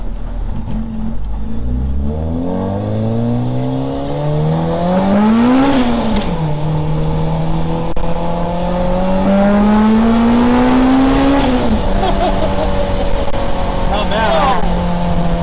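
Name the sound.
supercharged 1990 Acura Integra DA9 accelerating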